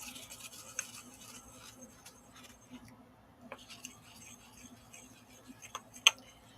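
A marble mortar and pestle grinds material into powder with faint, close scraping and rubbing strokes, plus a few sharper clicks near the end, in a quiet room.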